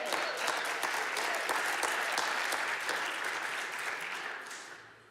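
An audience claps steadily as a sponsor is welcomed to the stage at a monthly live event, a lively round of applause that holds strong before slowly tapering off.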